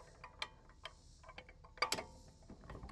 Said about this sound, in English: this lug nut is still in there a little tight, so I'm going to use my lug nut wrench once again